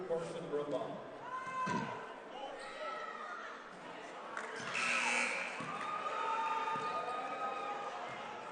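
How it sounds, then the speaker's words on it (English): At a high school basketball game in a gym, the scoreboard buzzer goes off by accident, sounding briefly as a sustained electronic tone amid bouncing balls, squeaking shoes and a murmuring crowd. Commentators talk over the scene. "That was an inadvertent buzzer."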